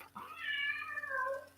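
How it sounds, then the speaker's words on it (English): A domestic cat gives one drawn-out meow, rising and then sliding down in pitch over about a second, close by and clear, with no talk around it. "that's the cat."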